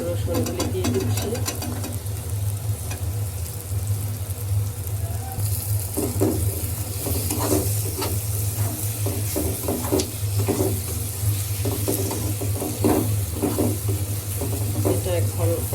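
Garlic sizzles in hot oil with dried loitta fish in a pan, a steady frying hiss broken by scraping stir strokes, while someone talks over the cooking.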